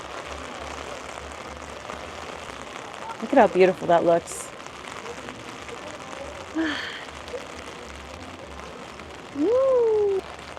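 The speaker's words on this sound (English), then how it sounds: "The raindrops are slowing down." Light rain falls at Magic Kingdom near Cinderella Castle, a soft steady patter beneath brief speech and a few distant outdoor sounds.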